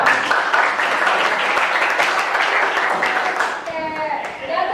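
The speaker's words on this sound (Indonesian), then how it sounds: "tepuk tangan buat kita semua" A classroom of students claps together during a lesson, dense steady applause that thins near the end as a teacher's voice comes through.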